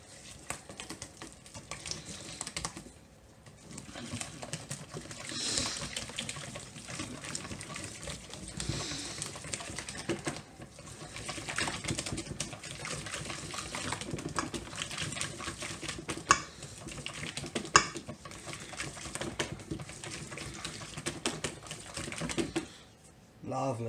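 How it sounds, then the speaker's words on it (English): A Herbalife cheesecake mix with added protein powder is whisked in a bowl, giving rapid, uneven clicking and scraping strokes that run on with brief pauses, fairly close and moderately loud. "So I'm going to whisk that up."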